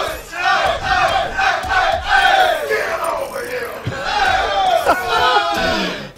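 A tournament crowd at a Mortal Kombat XL event in Vienna cheers and yells in a loud, sustained roar that swells and surges throughout.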